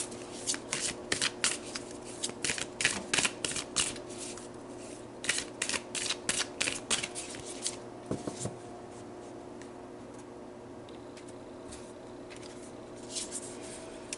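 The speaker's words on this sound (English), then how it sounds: "So let's pull some more cards." Tarot cards being pulled and shuffled by hand: quick papery riffles and flicks in bursts through the first half, then quieter handling, close and fairly soft.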